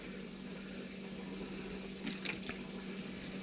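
Coolant runs into the header tank of a VW Crafter/Sprinter camper van's hydronic underfloor heating system: a faint, steady watery wash with a few brief gurgles partway through.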